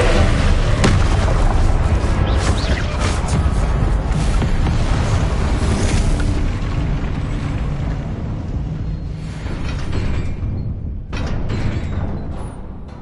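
A Confringo spell going off in Hogwarts Legacy, a loud, sustained explosive roar with deep rumbling booms that slowly fades over several seconds, followed by a few scattered sharp bursts near the end.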